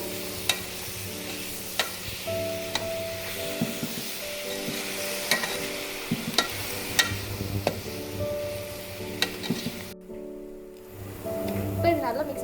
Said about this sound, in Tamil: இப்போ இதெல்லாம் சேர்த்து நல்லா மிக்ஸ் பண்ணிக்கலாம்.